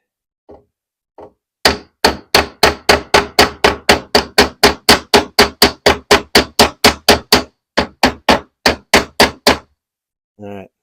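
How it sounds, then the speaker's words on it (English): A hammer taps nails into a wooden mid-century modern dresser in a long, steady run of about thirty sharp, close, evenly spaced blows. A couple of softer knocks come before the run and a brief rustle follows it. "I'm going to tap that to tighten it."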